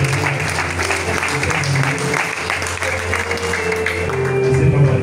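A church congregation applauds and cheers together in a steady, dense wash of clapping and voices that carries on through the whole stretch at fairly high volume.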